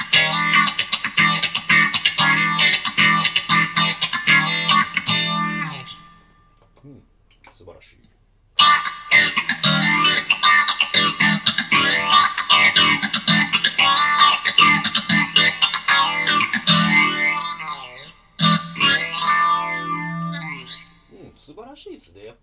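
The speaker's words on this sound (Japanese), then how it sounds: "続いてフェイザー行きたいと思います。" An electric guitar played through a phaser effect, comparing a Line6 HX One with a Zoom MS-50G+: strummed chords with a sweeping, swirling tone, loud and close, pausing briefly twice before resuming.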